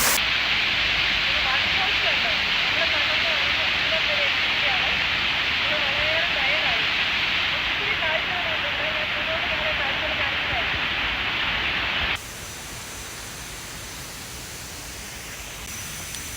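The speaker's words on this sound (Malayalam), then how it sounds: "ആ മനോഹരമായ ഒരു ഫോൾസ് ഉണ്ട് നല്ലൊരു കൂളിങ് ഇവിടെ വന്നിട്ടുണ്ട്" A waterfall in a garden gives a steady, loud broadband rush of falling water, heard close and unbroken, dropping abruptly to a softer level near the end.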